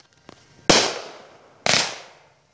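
Two loud firework bangs go off about a second apart outdoors, each a sharp blast with a fading crackling tail, preceded by a couple of faint pops.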